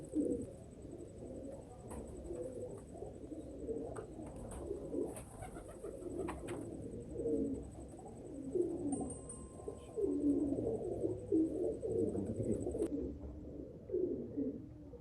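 Several Pakistani pigeons coo softly nearby in low, throaty, repeating calls, overlapping continuously.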